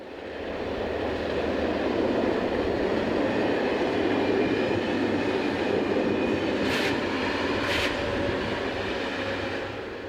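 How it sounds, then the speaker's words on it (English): A Class 2000 unit pulls into Petange station with a train for Luxembourg, a loud, close, steady rumble that holds throughout, with two brief high squeals near the middle. "a Class 2000 unit arrives with a train for Luxembourg"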